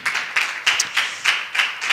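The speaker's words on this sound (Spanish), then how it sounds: "un aplauso para Matías" A church congregation claps in a quick, regular rhythm of loud, close sharp claps, almost in unison, with no talking over it.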